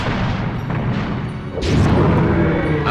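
Cannon fire in the PS1 game Medievil, level El Asilo, with a loud booming blast landing about halfway through over a continuous rumbling game backdrop.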